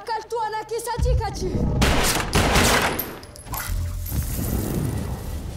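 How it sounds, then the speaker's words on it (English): Gunfire crackles in the video game Beyond: Two Souls, a loud sustained burst of shots mixed with game sound and voices talking, after a brief stretch of tonal music. "I don't think those bullets were supposed to happen yet."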